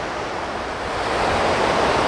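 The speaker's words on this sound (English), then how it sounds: "the background noise is going to be dealt with from the water running over the spillway" Water pours steadily over a spillway at a park, a dense, continuous broadband roar that stays close and loud, swelling slightly toward the end with no voices.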